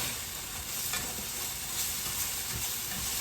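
Jarred garlic sautéing in a pan, a steady close sizzle and hiss that runs unbroken throughout with a faint occasional stir.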